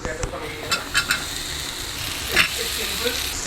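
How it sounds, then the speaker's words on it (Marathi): Potatoes frying in a pan for a Konkani aloo palak bhaji, a steady soft sizzle with a few clinks of stirring, heard beneath a voice speaking. "मागीर तांतू पटेटोज भाजूया."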